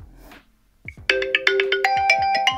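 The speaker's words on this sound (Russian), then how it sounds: "давайте послушаем рингтон" A Unihertz 8849 Tank 3 Pro smartphone plays its ringtone after a brief quiet moment: a loud, bright melodic pattern of repeated chiming notes in a steady rhythm, close to the microphone.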